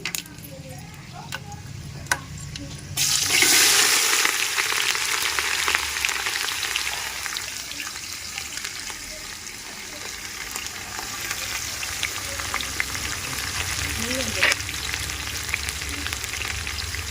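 Whole spices dropped into hot oil for chicken biryani, a sudden burst of loud crackling sizzle that then settles into steady frying with faint clinks, and a voice talking briefly at the start.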